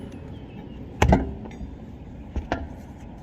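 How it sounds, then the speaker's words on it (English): A locking lug nut being removed with its key from the wheel of a Land Rover Defender during a flat-tire change, giving a few short metallic clunks and knocks against quiet background noise. "On the locking lug nut, take your key, like I said, stick it in there so it locks in, and take that off too."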